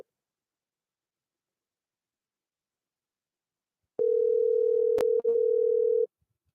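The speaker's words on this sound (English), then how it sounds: "You got a busy signal?" A telephone busy signal on a call: a steady, loud single tone that cuts in abruptly, runs for about two seconds with one brief dropout, then stops, with silence before it.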